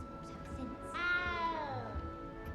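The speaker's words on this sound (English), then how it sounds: "Can hear a meow of a cat." In the video game Hogwarts Legacy, a small cat gives one clear drawn-out meow that rises and then slides down. Quiet game ambience and a faint voice sit underneath it.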